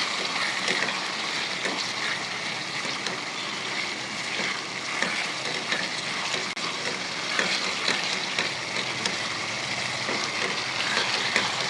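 Chicken macaroni seasoned with salt and black pepper being stirred in a hot pan, continuous bright sizzling with frequent small scrapes and clinks throughout, near and steady with no voices.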